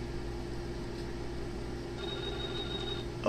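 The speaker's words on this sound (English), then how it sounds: "Oh, now the phone's going off." A telephone rings in the survival horror video game Clock Tower, a thin steady electronic tone that rises over a constant hum of ambient background noise near the end.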